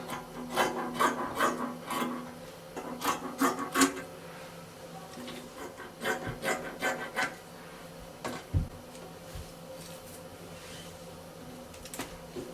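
Scissors snip through fabric while a two-piece bubu kaftan dress is cut out, clusters of close, crisp rasping cuts coming in short bursts, then sparser single snips with quiet pauses between.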